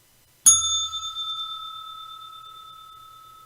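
A single bright bell is struck once, ringing out clearly and alone with a clean metallic tone that decays slowly over several seconds.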